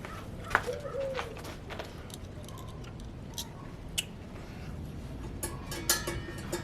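Doves coo faintly outdoors in the background, soft low calls amid quiet ambience with scattered clicks and taps from work on a Weber Smokefire pellet grill hopper.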